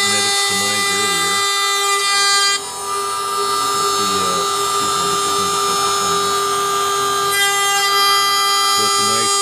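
A CNC machine cuts with a very sharp, aggressive solid carbide wood router bit that throws off chips, giving a loud, steady high-pitched whine with layered tones, and a voice talks underneath.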